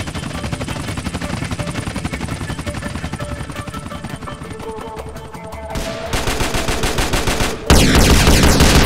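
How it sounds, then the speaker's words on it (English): A helicopter passes overhead in GTA San Andreas with a loud continuous rotor chop, mixed with rapid bursts of machine-gun fire; the noise swells and grows harsher toward the end, close and dominant. "Helicopter coming by?"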